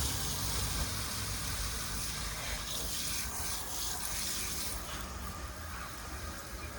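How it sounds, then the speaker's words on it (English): Water pours steadily onto a newly planted blueberry bush set in acid-loving soil mix, a continuous close rushing hiss that soaks the ground for the whole stretch with no voices. "let's go ahead and soak this really well"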